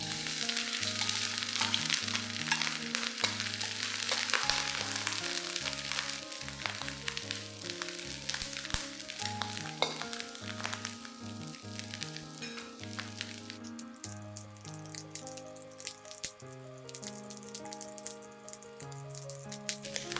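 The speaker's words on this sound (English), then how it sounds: "When the oil is hot, add in the dried shrimps." Dried shrimps frying in hot oil for stir-fried cabbage, a soft crackling sizzle with bursts of spatter running under prominent background music, fairly quiet overall and without speech.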